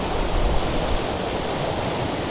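Steady, dense roar of a waterfall behind trees, a continuous broadband rush with no pauses, fairly loud and close, with no voices over it.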